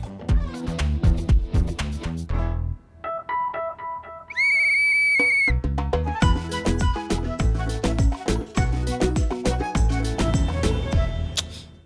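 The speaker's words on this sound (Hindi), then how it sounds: "ले सीटी बजा।" A single shrill whistle blast lasting about a second cuts through lively, busy background music.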